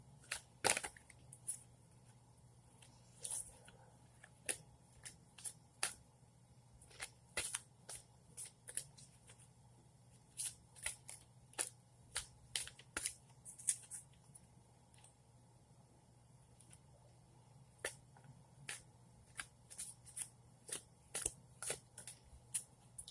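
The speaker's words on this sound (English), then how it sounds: "Okay, 2 more shuffles." Cards are shuffled repeatedly in quick riffling bursts, close and crisp, separated by short pauses in a quiet room.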